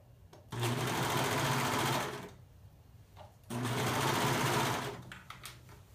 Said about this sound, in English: So now I'm gonna just surge them together.